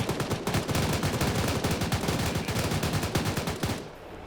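Rapid automatic gunfire from two BRDM armored vehicles firing on infantry during a multiplayer video game battle, a loud, sustained stream of shots that stops abruptly near the end.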